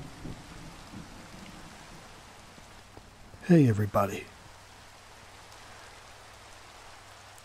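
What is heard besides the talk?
rain falling in Minecraft video game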